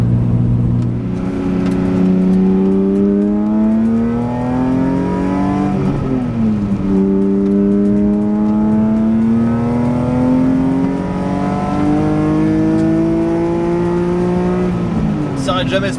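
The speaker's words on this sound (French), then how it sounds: "C'est vraiment un moteur de fou quand même" A BMW M3 E46 Touring's engine revs hard at high speed, pulling through rising gear sweeps with brief dips at each shift, loud and close with steady road roar beneath.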